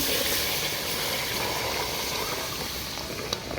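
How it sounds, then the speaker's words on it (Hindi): Cold milk poured onto melted sugar in a hot pan, giving a steady loud hissing sizzle like steam that holds level for several seconds and then eases off slightly, with no talking. "हमने मेल्ट चीनी के ऊपर जो है ठंडा दूध डाला"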